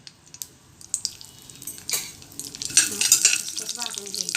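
A spoonful of poppy seeds roasting in ghee over low heat makes a soft, close sizzle, with scattered scraping clicks from stirring that grow busier and louder toward the end.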